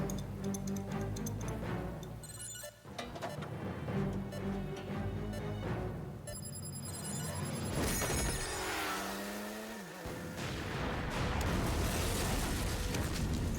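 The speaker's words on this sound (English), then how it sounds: "Outrun the explosion on the motorbike." In Dead to Rights, an explosion rumbles behind a motorbike escape. Loud, continuous roaring and crackling blasts mix with engine noise, beeping tones and a falling whine, all dense and close for over thirteen seconds.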